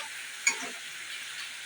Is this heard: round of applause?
no